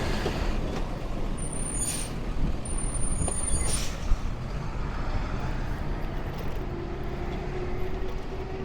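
A truck moves through dense downtown city traffic among tall buildings, a steady loud rumble of engines and road noise with hissing air-brake bursts near the start and middle, no talking.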